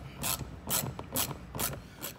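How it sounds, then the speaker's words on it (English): A ratchet with a long extension and a 10 mm socket backing out a screw while a Ford police vehicle panel is removed, five quick clicking bursts in a steady rhythm, close and clear, with no speech. "using the long extension and the 10 millimeter, you remove that other screw"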